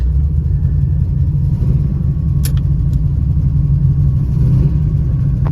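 A Buick Regal with a suspected drivetrain fault and no forward gears, its engine running in a loud, steady low rumble, held at a constant level with no clear climb in revs.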